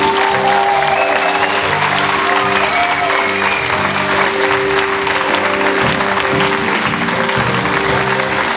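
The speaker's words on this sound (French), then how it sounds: "Je vous demande d'applaudir bien fort" A concert audience applauds loudly and continuously, a dense, steady wash of clapping heard close and alone, with a faint sustained tone beneath.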